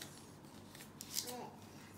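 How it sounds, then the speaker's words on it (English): Decoupage paper torn by hand while making coasters, a brief, close rip that rises in the middle of a short stretch with a faint voice in the background. "It feels nice to rip the paper too."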